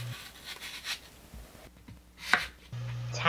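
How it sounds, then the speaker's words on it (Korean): A knife roughly chops an apple into small pieces for a pork bulgogi marinade, a few sharp, irregular cuts against a board, close and fairly quiet with some rustling between strokes. "잘 갈릴 수 있도록 작은 크기로 대충 썰고"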